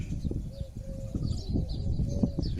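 Birds chirping and cooing at the edge of a swimming pool in the desert in the morning: soft repeated coos and thin calls at a moderate distance over a low, calm background.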